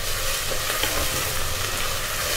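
Curry leaves frying in hot oil in a pan for a spicy crab rasam, a steady close sizzle with faint stirring scrapes running throughout, no voices.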